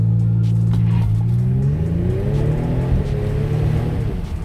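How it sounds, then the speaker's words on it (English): A 2022 Genesis G70 in Sport Plus mode launches hard from a brake-held standstill, its engine and exhaust rising in a loud, continuous climbing roar that holds for several seconds close to the car. "Let's get a quick launch going, see if we can get this working."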